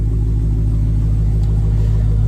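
A motorcycle with factory exhaust runs close by, giving a loud, deep, steady engine rumble that holds at an even level without distinct revs.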